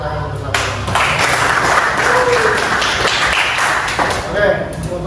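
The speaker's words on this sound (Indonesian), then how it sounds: "Terus semangat lagi kita tepuk tangan bersama" A school class claps hands together in a classroom, a dense burst of many hands applauding near and loud for several seconds, starting abruptly and tapering off toward the end.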